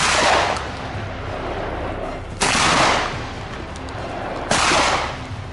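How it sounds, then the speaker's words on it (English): Three loud, sharp gunshots from hunters shooting wild boars at the foot of a hill near farmland ring out a couple of seconds apart, each trailing a long echo across open ground. "shots echoed from other directions"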